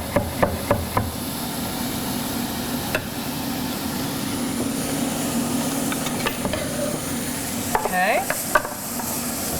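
Chopped garlic browns gently in a pan over fairly low heat, giving a steady soft sizzle with occasional utensil clinks and stirring scrapes near the start and end; a voice briefly speaks.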